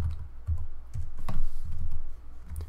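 Rapid, irregular clicks of a computer keyboard as code is typed in the R programming environment, each keystroke crisp and close with brief pauses between bursts.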